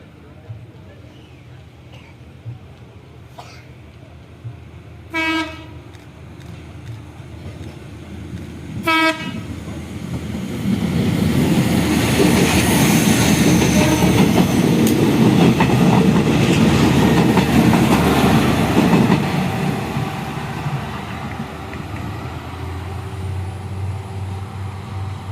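KRD diesel railcar running from Surabaya Pasar Turi to Bojonegoro, heard after two short horn blasts, then a loud, sustained rumble and clatter as it passes close by, fading slightly toward the end, with people talking.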